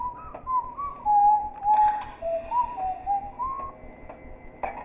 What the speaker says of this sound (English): I heard him whistling.